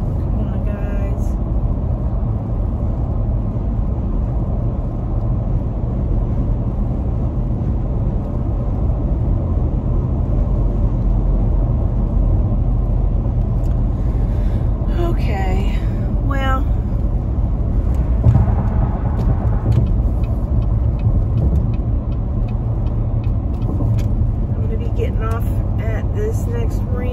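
A car cruises on an interstate highway, steady engine drone and road roar filling the cabin at constant loudness while a person talks intermittently over it.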